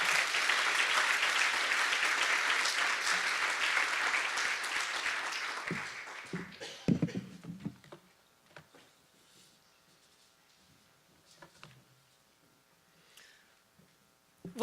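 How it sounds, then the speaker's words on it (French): Applause from a forum audience on social impact measurement, a dense sustained clapping that fades out after about six seconds, leaving scattered faint claps and room noise. "je pense qu'on peut lui faire une belle main d'applaudissements"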